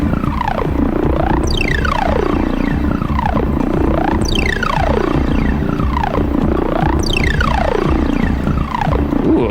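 A Roland 303 synth bassline looped on cassette tape plays continuously with reverb and delay, repeating squelchy sweeping notes in a steady rhythmic pattern at constant loudness.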